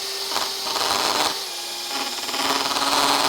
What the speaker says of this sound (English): I've got it on hammer drill or something, have I?